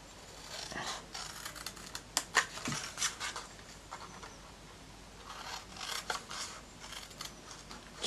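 Scissors cutting through scored cardboard for a flat pack craft box, a series of crisp snips and papery rasps in irregular bursts, close and quiet, with brief pauses between cuts.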